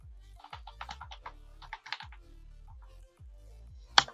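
Keyboard shortcut presses in Photoshop come as soft, scattered key taps over a low hum, ending with one sharp, louder click; nobody speaks.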